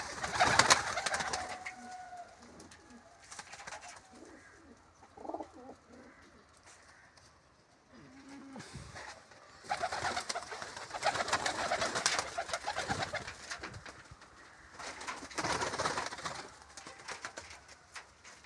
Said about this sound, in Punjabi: ਕਬੂਤਰ ਕੁਝ ਬਾਹਰ ਆ ਗਏ ਆ ਆ ਬੈਠੇ ਆ